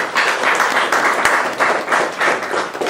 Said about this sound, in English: We'll receive his applause first